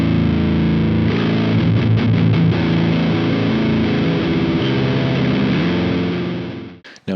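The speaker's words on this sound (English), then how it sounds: "one thing you want to do is enabling a clipping diode in the second jive" Electric guitar run through a JPTR FX Double Jive overdrive pedal with its clipping diode engaged, a loud, thick distorted chord riff close up that rings out and fades at the end, no talking.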